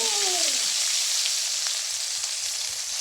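Onion tipped into hot oil for tempering, bursting into a loud, dense, steady sizzle that holds close and even, with a faint sliding tonal sweep right at the start and no speech.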